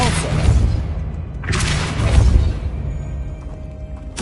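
The Depulso repelling spell cast in Hogwarts Legacy gives heavy booming magical blasts, a loud one at the start and another about a second and a half later, each with a rumbling tail, then a sharp burst at the very end.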